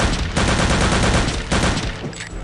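Dense, loud gunfire in Return to Castle Wolfenstein, a continuous barrage of overlapping rapid shots with brief dips, close and dominating throughout.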